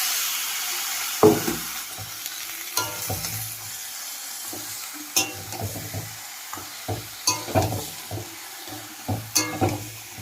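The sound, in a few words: goat meat frying and being stirred in a wok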